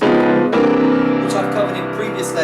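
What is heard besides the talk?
No everyday noises stand out.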